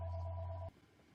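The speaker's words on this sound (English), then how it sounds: "It wouldn't be a video without a phone call, right?" A telephone rings with a steady, loud electronic tone that cuts off abruptly partway through, leaving a quiet room afterward.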